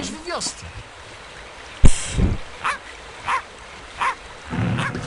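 A cartoon dog barks in short yips in the Reksio video game, several quick separate barks spread over a few seconds against soft game background sound.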